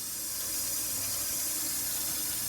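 Steady hiss of a kitchen faucet running water into a large pot set down in a big, deep sink, a continuous broadband rush with no talking.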